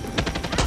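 Rapid gunfire in the video game Far Cry 6, a burst of several sharp, loud shots in quick succession without any talking.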